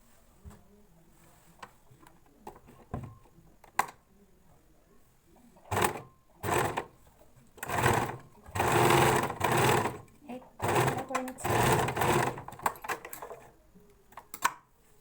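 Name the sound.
sewing machine stitching fabric for a dress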